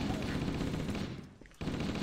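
Continuous dense gunfire in the video game Halo: Combat Evolved, loud and steady throughout with a brief dip near the end before resuming.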